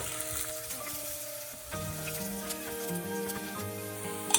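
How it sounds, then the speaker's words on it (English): Onions and ginger sautéing in a hot pan for an Indonesian tempeh taoco dish, a steady close sizzle with faint stirring clinks, no voices. "Then, add the onions and cook until golden brown and fragrant."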